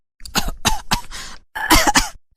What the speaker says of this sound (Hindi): तभी अचानक से कोई दूर से चुड़ैल पर एक पाउडर फेंकता है और चुड़ैल जोर जोर से खांसने लगती है।